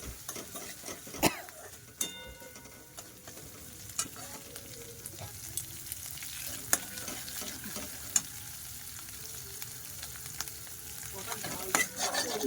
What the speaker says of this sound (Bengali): ভালো করে ভেজে নিলাম